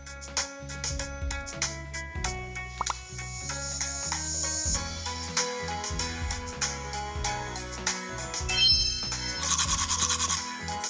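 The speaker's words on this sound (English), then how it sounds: "let's help Blippi brush his teeth" Toothbrush bristles scrubbing teeth in a children's animated hygiene scene, a run of quick rhythmic rubbing strokes heard over a bright, busy musical backing.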